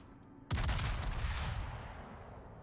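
Naval gun salvo from warships in World of Warships: a sudden loud booming blast, then a long rumbling roar that slowly fades, with no voices.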